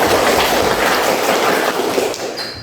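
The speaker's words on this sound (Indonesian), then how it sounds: "tepuk tangan kelompok 1" A classroom full of students applauds a presenting group in a dense, steady wash of clapping that holds at an even loudness for a couple of seconds before tapering slightly.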